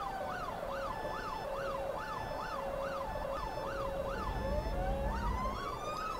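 An ambulance siren from the city-building game Cities Skylines wails in a steady, rapid up-and-down sweep that repeats over a bed of low, rumbling traffic noise, with no talk.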